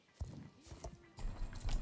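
Horse hooves in the video game Star Stable Online clip-clop in quick, moderately loud rhythmic steps, with a busier run of hoofbeats near the end and no talking.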